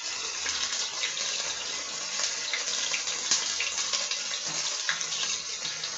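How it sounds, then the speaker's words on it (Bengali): Water pours steadily into a cooking pot holding onion paste for a curry, a soft continuous splashing stream with no talk over it. "পানি দিয়ে দিলাম"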